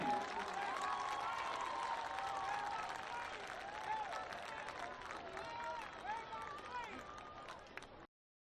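Sustained applause from a crowd at an athletic hall of fame ceremony, steady and dense throughout, with voices and cheers mixed in before it cuts off abruptly.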